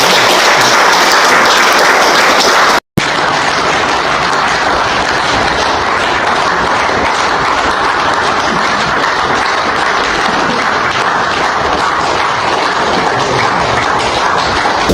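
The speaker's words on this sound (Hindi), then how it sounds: "एक बार जोरदार तालियां।" Loud, sustained applause from a crowd at a village chaupal gathering in Dabodha Khurd, held for the sarpanch. The dense clapping runs steadily throughout, broken only by a brief dropout near the start.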